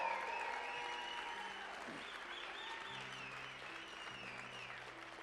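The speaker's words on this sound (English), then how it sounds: "give him a tremendous round of applause" An audience applauds at a Les Brown motivational speaking event, sustained clapping that starts loud and eases slightly, with held musical tones playing underneath.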